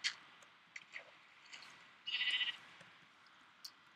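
A sheep in the video game Minecraft bleats once, a short, fairly faint wavering call, amid a few small clicks and soft game noises.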